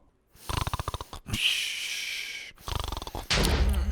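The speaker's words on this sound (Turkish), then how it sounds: "Bu patlama sesi de neydi?" Blocky Minecraft explosion booms in bursts, with rapid rumbling pulses, a sustained roaring blast and another burst of crackling detonations, loud and close.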